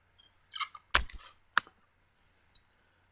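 Mouse clicks on a settings option in a WordPress admin panel, a few sharp, close clicks spread unevenly over about three seconds with quiet pauses between them and no talking.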